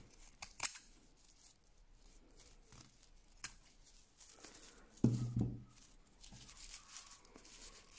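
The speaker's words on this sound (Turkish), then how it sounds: "Burayı biraz güçlü bir makasla keseceğim." Quiet, sporadic snips of heavy-duty scissors cutting through clutch bag material, a few sharp clicks spaced apart against a faint background.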